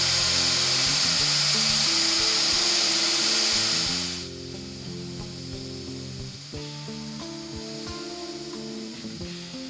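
A woodturning lathe spins a wooden top while finish is burnished onto it, a loud hissing rub for several seconds that gives way to the lathe's tonal hum with faint clicks.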